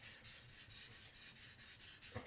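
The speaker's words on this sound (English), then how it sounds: "now I'm sharpening behind the edge to thin it" Kitchen knife blade being sharpened behind the edge to thin it on an Anima Chaussera 400 grit whetstone, a steady rhythmic rasping of back-and-forth strokes under moderate pressure, close and fairly quiet.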